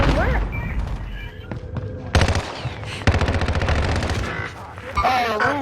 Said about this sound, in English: God, I'm getting sniped at.